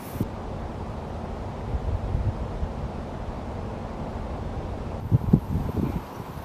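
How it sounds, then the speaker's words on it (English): Wind buffets a microphone outdoors beside a river and canal near sunset, a steady low rumble of gusts with a brief louder burst near the end and no voices. "It's windy."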